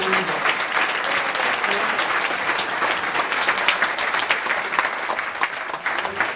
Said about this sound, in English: if I could get a round of applause for Aaron Alou for making this thing happen